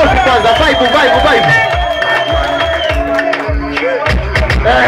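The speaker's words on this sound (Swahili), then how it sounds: "makofi mengi sana" Guests in a hall at a baby-presentation celebration break into sustained clapping and cheering, with loud overlapping voices and shouts mixed through the noisy crowd.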